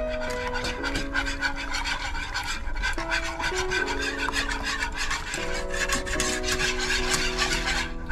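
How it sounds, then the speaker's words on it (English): Peanut butter cake batter with canola oil being whisked by hand in a bowl, a steady scraping, rasping stir that runs continuously and close, with no talk, under a constant tonal hum in the background. "now I'm going to whisk it all together"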